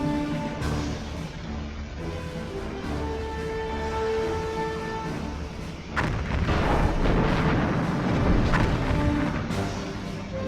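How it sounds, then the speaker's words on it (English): Explosions in space from the Star Trek: Bridge Commander video game boom and rumble over a sustained orchestral score, with a heavier burst partway through. "that is explosions in space"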